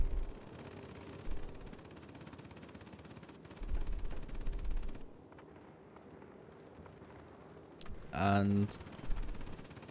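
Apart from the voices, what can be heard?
bomber top turret machine gun firing in a video game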